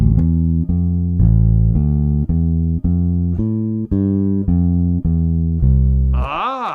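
A bass guitar plays the first three measures of a walking bass line, a steady run of clearly separated, sustained low notes at an even pulse, with a brief different tone right at the end.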